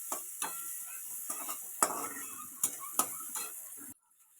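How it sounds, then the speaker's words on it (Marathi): Onions for a village-style potato dish fry in a pan while a spoon stirs them, making a soft sizzle broken by light tapping scrapes. The sound stays close and fairly quiet and then cuts off abruptly near the end. "आता तुम्ही बघू शकता की कांदा किती व्यवस्थित भाजलेला आहे"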